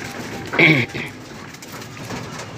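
Breeder pigeons in a loft give a single short coo burst, fairly close and moderately loud, then quiet background rustle for the remaining seconds.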